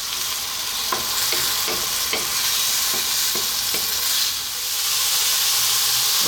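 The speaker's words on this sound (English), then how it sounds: "the tomatoes are cooking down really nicely" Tomatoes cook down over lively heat in a pan for Arab green beans, a steady sizzle and hiss running throughout, broken by several sharp scraping stirs of a utensil against the pan.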